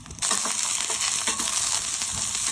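Onion, garlic and chillies sizzle in a pan, with a steady bright hiss of frying and a few soft scraping stirs.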